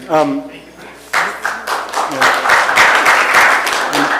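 Audience applause breaks out at a cannabis regulatory planning workshop in Calaveras County, a steady round of many hands clapping that builds after a few seconds of talk and carries on fairly loudly.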